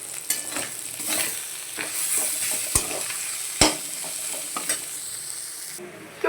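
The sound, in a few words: mixing spices into fish kachori filling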